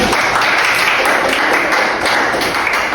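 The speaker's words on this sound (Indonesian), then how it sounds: "Berikan tepuk tangan." Classmates clap for a student group during a primary-school microteaching lesson; brisk, continuous clapping fills the room at close range, fairly loud and steady without any talk.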